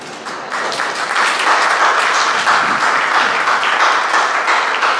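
Dense, loud audience applause at a stand-up comedy show, steady close-packed clapping building quickly in the first half-second and holding for the full five seconds.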